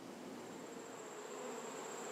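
Honeybees hum in a continuous, even buzz, faint and steady, with no other sounds.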